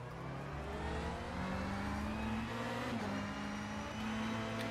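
A simulated LMP2 prototype race car launches at the green-flag start of a 3-hour Spa race in a racing video game, its engine a steady droning whir that swells as it accelerates, alone with no talk.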